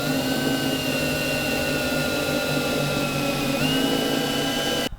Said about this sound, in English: now that I've got all the holes drilled